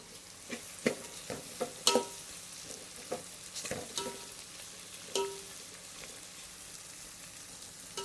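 Onions and green chillies frying and being stirred in a pan, with close, intermittent scraping and stirring clatters over a soft steady sizzle, no one talking.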